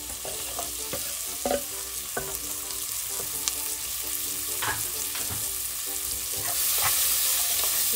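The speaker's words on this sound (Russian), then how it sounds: "Так, лук с чесночком обжарили." Chopped onion and garlic frying in butter and vegetable oil in a pot for Turkish lentil soup, a steady close sizzle broken by scraping stirs and utensil knocks, growing slightly louder toward the end.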